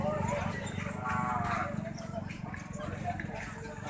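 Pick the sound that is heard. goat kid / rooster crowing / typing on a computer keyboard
goat kid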